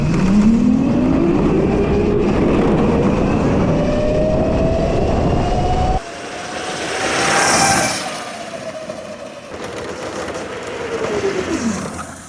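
An electric mini F1-style car with a 72V, 28kW Golden motor drives past, its motor whine rising and falling in pitch as it speeds up and passes, loud and close, with no talking.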